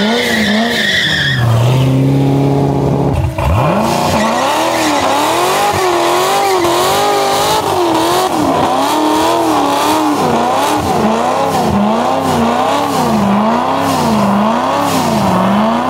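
A modified donk car squeals its tires loudly and continuously in a long skid, the pitch wavering up and down over revving engine noise, with no talking.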